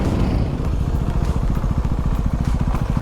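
A motorcycle rides a narrow mountain road, its engine chugging in a fast, even pulse with crackling clatter, loud and close for the whole stretch, no talk.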